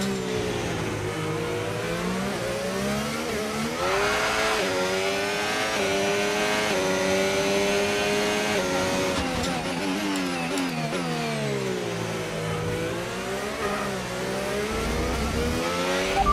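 A Ferrari Formula 1 car in the F1 25 racing game, at the Spa circuit, screams through the gears, its engine pitch climbing and dropping repeatedly as it brakes and accelerates, continuous and loud with no talking.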